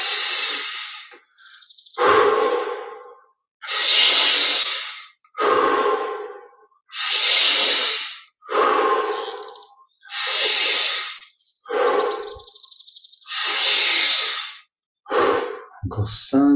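Slow deep breaths during a guided meditation, about nine long audible exhalations and sighs separated by quiet pauses, close and breathy, with faint bird chirps in the background between breaths.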